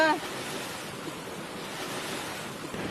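Sea waves break and wash along the shore in a steady, loud roar, with some wind buffeting the microphone and a brief voice at the very start.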